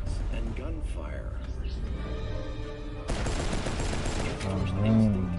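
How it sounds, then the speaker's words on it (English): Gunfire erupts in the video game Cyberpunk 2077 amid panicked screams, with dense bursts of shots and chaotic noise building loudly, while a voice talks over the commotion. "our friend Mr. Puggins suddenly hears screams and gunfire"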